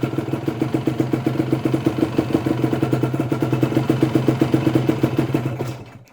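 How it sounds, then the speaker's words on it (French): A motorcycle engine idles close up in first gear, a steady rhythmic mid-pitched putter with mechanical clatter, fading out abruptly at the end. "on va démarrer la moto."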